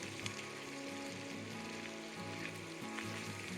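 Ground Sichuan peppercorns sizzle in hot oil for a vegan mapo tofu, giving a steady, dense crackle that carries evenly through the whole stretch, close and moderately loud, with no talking.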